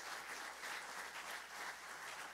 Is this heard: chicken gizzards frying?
no